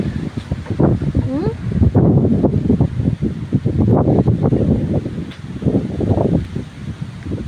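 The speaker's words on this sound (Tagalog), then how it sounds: "Napakalakas na hangin dito." Strong wind roars and buffets in continuous gusts, with rustling and wind noise pressing hard against the microphone.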